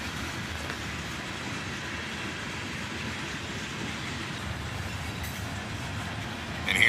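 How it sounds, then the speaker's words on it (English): A freight train rolls steadily past, including a rusty old coil chute car, with a continuous broadband rumble of wheels and rail noise at constant loudness and a brief louder burst right at the end. "check out this rusty old coil chute car"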